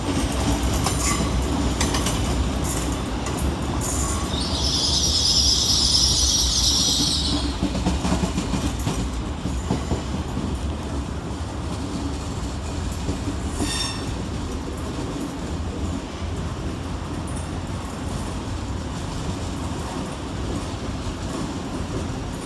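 Great Western Railway trains 800 029 and 800 007 arriving at London Paddington station, a steady rumble of wheels and rolling stock with a bright squeal of brakes or wheels partway through, amid constant station ambience and no talk.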